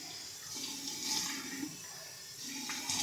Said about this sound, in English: Got warm water going here.